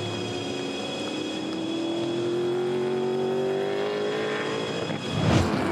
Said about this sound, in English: Chaz lights them up here at Queensland Raceway.